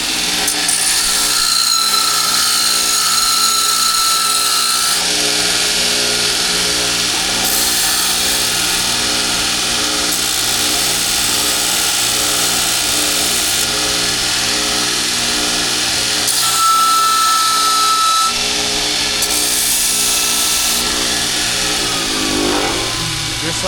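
Power tool cutting about a quarter inch off the tops of axle parts for a mini rock crawler drivetrain, a loud steady grinding whine running through the whole stretch with brief dips in pitch.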